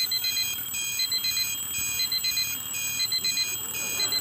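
Several alarm clocks ring together in a layered, repeating electronic beeping pattern with steady pulses overlapping, fairly quiet and with no talking.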